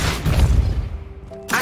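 The Depulso spell is cast in the Hogwarts Legacy video game: a deep booming thump with a whooshing burst, then a fading tail and a short bright tonal ring before a second sharp hit.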